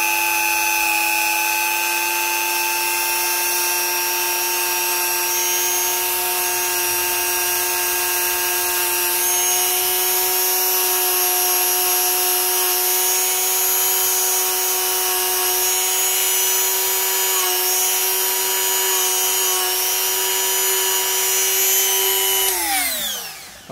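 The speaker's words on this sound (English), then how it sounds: "here we go, I'm going to clean the commutator." Small electric motor from a Hornby Ringfield model diesel locomotive spinning at high speed while an abrasive tool cleans its commutator, a loud steady whine lasting over twenty seconds that winds down in pitch at the end.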